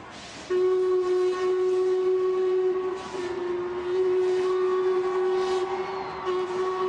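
A steam train whistle at the 2012 Diamond Jubilee Pageant sounds in a long sustained blast, steady and loud, continuing almost without a break.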